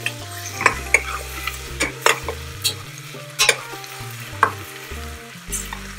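Crushed ginger and garlic sizzle steadily in a pan while a spoon stirs them, with a series of sharp scraping clinks at irregular intervals over the frying hiss.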